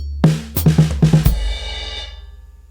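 A drum fill played with altered sticking: a rapid run of tom and snare hits, about seven strokes in quick rhythm, ending on a cymbal crash that rings and fades alone.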